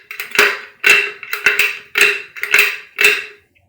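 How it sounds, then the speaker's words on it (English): Reloading powder measure cycled by hand to empty out leftover powder: six or seven loud, close mechanical clacks with a ringing metallic tone, in a steady rhythm about twice per second. "So you'll have to manually cycle the powder measure a few times"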